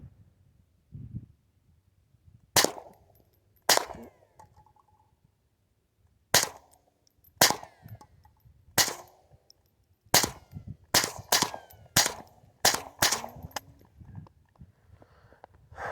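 Repeated .22 rimfire rifle gunshots fired outdoors, about a dozen sharp cracks, some spaced seconds apart and others in quick succession near the end, fairly loud with brief decays and no talking.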